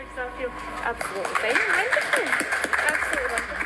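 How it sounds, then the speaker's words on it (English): Scattered clapping from a small group of hospital staff greets the first person vaccinated against COVID-19 in the UK, crisp and close, running under people talking in the foreground. "she sort of exited her vaccination to a round of applause"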